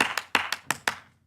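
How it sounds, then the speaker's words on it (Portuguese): Hands clap in a quick irregular pattern, four sharp close claps in a little over a second, each with a short decay, alone with no talking. "se nós batemos palmas assim"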